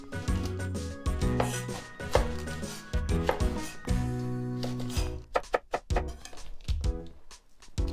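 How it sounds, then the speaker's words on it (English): A kitchen knife cutting leafy vegetable leaves into pieces on a board while preparing Japanese sukiyaki hotpot, a run of close, soft rhythmic chops under light background music. "I take the leaf part out, and then I'm just gonna cut these in pieces."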